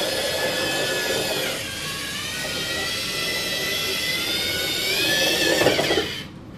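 Small electric servo motors of a LEGO EV3 robot driving forward under Bluetooth control, a steady close whine with layered rising and falling tones for about six seconds before cutting off abruptly, with no talk.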